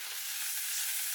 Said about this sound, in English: just a nice low sizzle